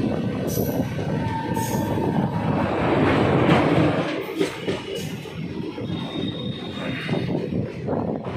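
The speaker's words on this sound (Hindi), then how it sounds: "ये खूबसूरत सा डिपार्चर दिल्ली शाहदरा जंक्शन से।" Ambala Delhi Intercity Express (14522) pulling out of Delhi Shahdara Junction, a steady rumble of rolling coaches with rhythmic wheel clatter and occasional faint squeals, close and continuous throughout.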